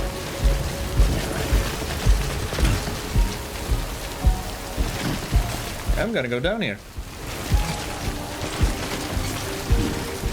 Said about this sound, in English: And it's raining, so my battery isn't charging